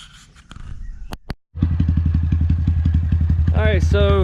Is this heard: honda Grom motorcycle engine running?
yes